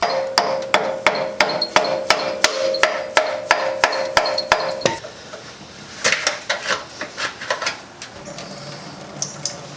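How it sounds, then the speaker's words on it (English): A hammer drives a screwdriver through an over-tightened oil filter on a Subaru RS, with a steady run of about a dozen sharp metallic strikes close up, then a pause and a looser, quicker cluster of clanks. "time to use the screwdriver and hammer trick."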